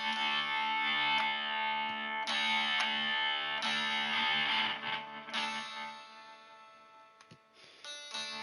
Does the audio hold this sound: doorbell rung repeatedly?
no